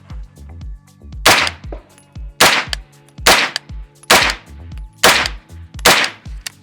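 Five sharp, loud gunshots fire at a target with Supervel ammunition, evenly spaced about one second apart, each a hard crack with a brief ringing tail.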